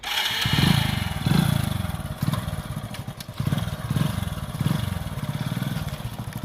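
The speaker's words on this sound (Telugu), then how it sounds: "మనం ఏమాత్రం ఆలస్యం చేయకుండా బైక్ అయితే స్టార్ట్ చేద్దాం" A motorcycle engine sputters to life and chugs loudly close by, its uneven revs rising and falling in repeated pulses.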